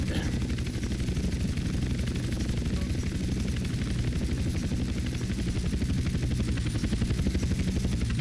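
Helicopter flying in the video game GTA San Andreas, a steady loud rotor chop and engine drone filling the whole stretch, with no talk over it.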